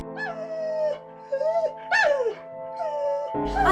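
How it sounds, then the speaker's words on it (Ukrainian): A dog whimpers and whines in a series of short, high, wavering cries, close and fairly clear, with brief pauses between them. "пес почав скиглити"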